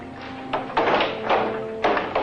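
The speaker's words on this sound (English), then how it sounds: "Okay, the auditorium's full. Close the doors." Auditorium doors being shut during a crowded rally, heard as a few dull thuds and knocks spread across a couple of seconds over a steady background hum, with no speech.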